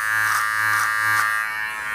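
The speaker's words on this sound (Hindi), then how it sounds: "ये है नोवा का NHT 1058 ट्रिमर।" A Nova NHT 1058 waterproof beard trimmer runs with a steady, close electric buzz, its whine pulsing slightly as it moves, with no talking.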